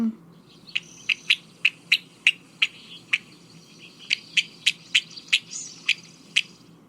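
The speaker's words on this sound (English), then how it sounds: "And then this one also, these are alarm calls. If you're near a nest, you might hear this." Common nighthawk alarm calls near a nest: a rapid series of sharp, clipped notes, about fifteen of them, in two bursts separated by a brief pause, clear and fairly close over a quiet background hum.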